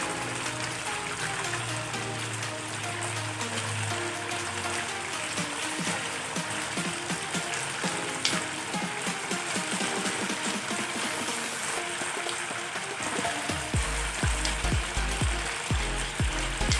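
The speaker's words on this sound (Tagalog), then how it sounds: "pwede na natin baliktarin para yung kabilang side naman ang maluto" Chicken teriyaki fries in a pan just after being turned, giving a steady, continuous sizzle with scattered small clicks and pops, louder and denser toward the end.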